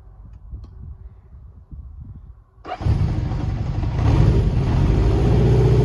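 A 1975 Honda CB750 motorcycle engine cranks and catches after several seconds of quiet handling noise, then settles into a loud, steady idle that builds slightly as it runs, close to the listener.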